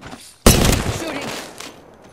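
A single loud, close gunshot blast in the video game Apex Legends, a sharp onset followed by a decaying boomy tail.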